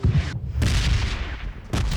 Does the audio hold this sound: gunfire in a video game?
yes